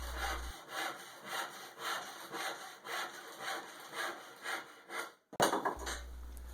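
A hand saw cuts across the end of a rived wooden board, squaring it off in steady back-and-forth strokes, close and clear, with a brief pause near the end as the cut finishes.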